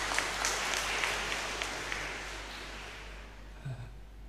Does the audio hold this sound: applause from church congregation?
yes